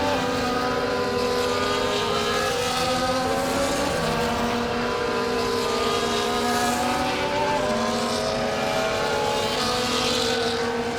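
Formation-lap F1 cars on the Andretti Cadillac team in F1 24 drone past with loud, continuous high-revving engines, pitch rising and falling in overlapping whines as they roll toward the starting grid.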